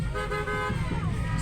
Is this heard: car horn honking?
yes